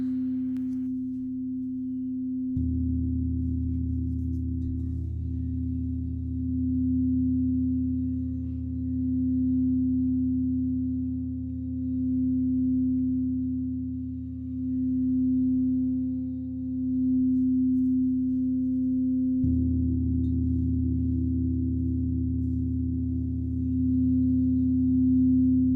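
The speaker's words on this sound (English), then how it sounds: "The 4th instrument that you'll be hearing is a Nibiru gong." A Nibiru gong resonates in a long, steady sustained tone, its deep hum swelling and fading in slow waves for about twenty-five seconds, with a brief quieter stretch at the start and a fresh swell near the end; no voices.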